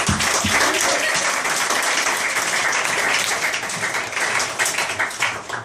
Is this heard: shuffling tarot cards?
no